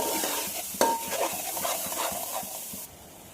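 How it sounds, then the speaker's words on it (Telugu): Chili powder and softened tomatoes frying on high heat, a close continuous sizzle under brisk stirring and scraping, one sharp clink of utensil on pan early, then the sizzle cuts off. "ఇది కూడా బాగా కలిసేలాగా, కారం కూడా వేగేలాగా హైలో పెట్టేసి వేయించుకుంటున్నానండి"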